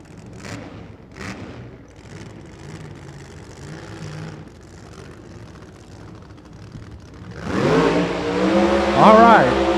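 AA gas supercharged drag racing car at the California Hot Rod Reunion, a loud engine roar surging in over the final seconds after a stretch of announcer talk and crowd murmur at the strip.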